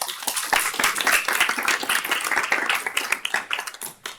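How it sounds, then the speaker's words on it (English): Sparse, scattered clapping from a seminar audience welcoming a speaker, steady for a few seconds and thinning toward the end. "So, round of applause for Suchi."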